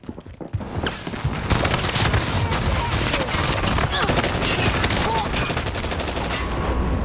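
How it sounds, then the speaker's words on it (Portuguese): Dense gunfire in the Warzone video game, with rapid overlapping bursts and automatic fire that runs loud and nearly continuous for seven seconds. "eu escutei tiro"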